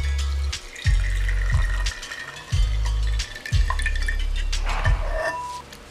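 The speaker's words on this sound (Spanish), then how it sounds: "vamos a agregar en nuestro recipiente de mezcla el agua destilada" Distilled water poured into a mixing container while making a glycerin pet shampoo, heard as a close, steady stream and splash with a few brief breaks and drips, no talking.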